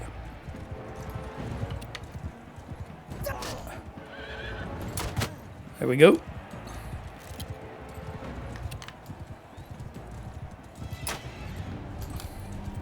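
Horses in Mount & Blade II Bannerlord whinny and clop through a battle scene, with one loud neigh standing out near the middle over steady ambient noise. Someone talks briefly during it.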